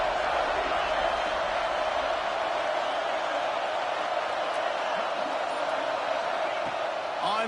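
A packed college football stadium crowd at a Clemson vs Georgia game roars during a goal-to-go defensive stand, a loud, continuous wall of cheering that holds steady the whole time.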